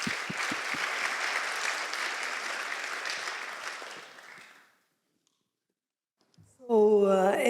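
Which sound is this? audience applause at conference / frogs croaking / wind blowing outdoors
audience applause at conference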